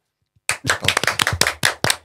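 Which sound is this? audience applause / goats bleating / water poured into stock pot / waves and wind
audience applause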